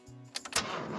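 A cartoon car engine being tried after a repair: a brief low tone, then a few sputtering bursts leading into a rough, rising engine-like noise, close and fairly loud.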